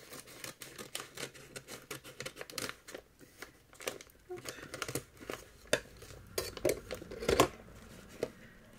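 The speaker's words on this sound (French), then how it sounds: "Je vais essayer de voir si je peux l'ouvrir sans tout déchirer" Mailed parcel being opened by hand, with faint close paper crinkling and rustling and scattered small taps and clicks, uneven and quiet, and no talking.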